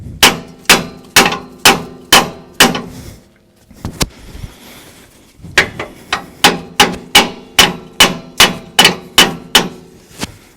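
Loud metallic hammer blows on a truck rear axle tube, a steady rhythmic series of clanging strikes, a brief pause, then another fast run of hits.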